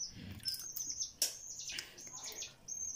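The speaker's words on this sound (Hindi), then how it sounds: "तोती है कि तोता है," A pet parrot chirps and tweets indoors, with several short, bright calls scattered across a few seconds, fairly close and moderately loud against a quiet room.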